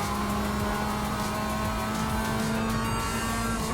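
Mazda MX-5 race car in the iRacing sim at Tsukuba, its engine droning steadily and loudly throughout with a constant pitch and faint tire noise, no talking.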